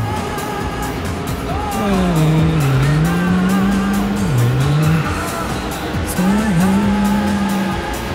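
Race car in the Daytona USA 2001 game on Dreamcast, a loud engine drone with long wavering tire squeals as the car slides through a corner, then a second screech after a short pause.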